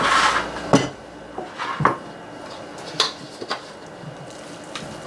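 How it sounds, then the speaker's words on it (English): Moist zucchini brownie batter is scraped into a baking pan, with a few clear clinks of a utensil against the pan and soft scraping between them, close and moderately loud with no talking. "And we're gonna put this right in our pan."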